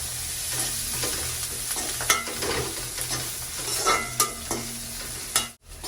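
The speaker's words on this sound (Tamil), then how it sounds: "வெங்காயம் எல்லாமே நல்லா வதங்கிட்டு" Onions sautéing in a pan for a Tamil-style kuzhambu, a steady close sizzle with scraping stirs throughout, stopping briefly near the end, no talking.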